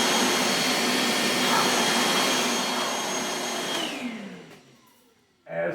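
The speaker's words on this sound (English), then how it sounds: "This now gives me my suction on the hose. You hear the motor change." A bucket-style honey bee vacuum motor runs with suction on the hose, a loud steady whine that shifts in pitch and then winds down toward quiet before surging back at the end.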